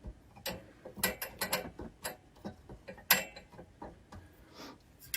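The pressure adjustment on a heat press for 20 oz tumblers is tightened, giving a quiet series of irregular mechanical clicks and ratcheting ticks, close by and alone.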